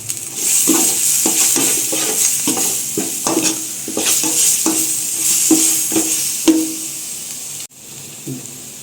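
Ginger garlic paste sizzling in a pan for mutton curry, a loud continuous sizzle with repeated stirring scrapes every half second or so, close up, ending in a sudden drop near the end.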